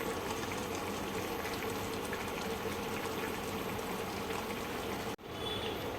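Clam curry, the Agri Koli shimplyancha kalvan, boiling hard in a pot gives a steady, loud bubbling and hissing roar that carries on without a break and drops out for a moment near the end.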